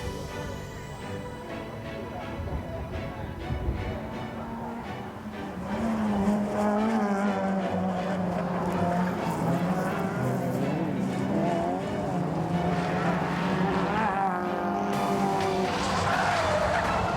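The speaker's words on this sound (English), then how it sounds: "In the hot hatch final, Thomas Vilgos led in the 106 Peugeot." Hot hatch rallycross cars race in a British Rallycross Championship final, led by a Peugeot 106. Engines rev and surge at moderate distance, with tyre squeal and a swelling roar as the pack passes, and faint commentary mixed underneath.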